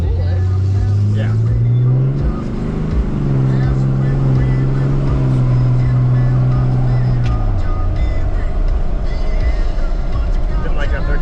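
A drag racing car accelerates hard with a loud, droning engine tone that climbs, drops at a gear shift, climbs again, then cuts off into rumbling background noise.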